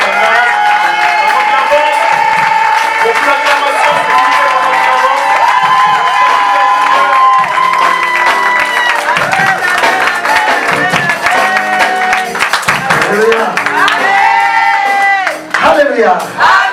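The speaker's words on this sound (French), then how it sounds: "sous vos acclamations, nous allons recevoir le deuxième orateur." A large crowd at a French-language church gathering cheers, whoops and applauds continuously to welcome a preacher, loud and sustained with shouts rising above the roar and a tonal, musical ring running through it.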